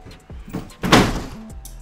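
A broken door slams once with a sharp, loud bang, after quieter shuffling and bumping; a short low hum follows.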